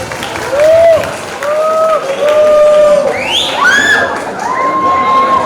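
Crowd at an outdoor campaign rally for candidate pair 1 cheering and shouting loudly, with children's high voices rising above steady applause throughout.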